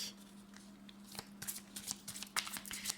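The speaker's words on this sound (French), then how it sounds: "je vais prendre 5 cartes en tout" Tarot cards are drawn and handled close by, with soft papery flicks, slides and taps in an irregular rhythm over a faint steady hum.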